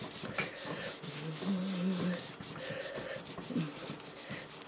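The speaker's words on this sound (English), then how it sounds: "This baking soda is non-abrasive on your faceplate, so you can really get in there and get some scrubbing" An iron's faceplate is scrubbed with a paste of baking soda and water, making continuous close rubbing strokes with a gritty, rhythmic texture.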